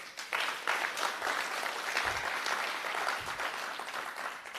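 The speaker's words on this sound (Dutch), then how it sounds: "Even een applaus voor Willem." An audience at a Frisian poetry evening applauds warmly, a dense run of clapping at moderate volume that holds steady for several seconds, with a couple of low thumps underneath and no speech.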